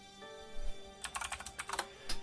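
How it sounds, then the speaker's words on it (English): Typing on a Cherry mechanical keyboard, a fast run of close, crisp clicky keystrokes in uneven bursts over a faint steady background tone. "Sorry if my Cherry keyboard is a little loud"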